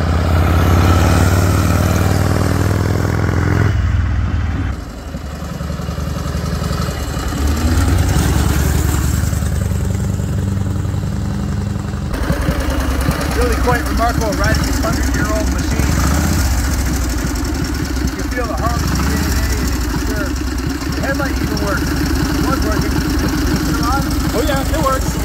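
A 1928 Harley-Davidson JD V-twin motorcycle engine runs throughout as a steady low rumble, with someone talking over it for most of the ride.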